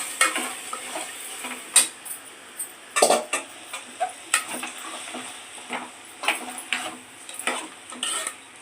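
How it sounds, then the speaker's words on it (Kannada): Peanuts rattle and scrape in a dry pan as they are stirred, irregular scratchy clinks and shuffles repeating close by with no talking. "ಕಡಲೆ ಬೀಜ ಹಾಕ್ತಾ ಇದ್ದೀವಿ"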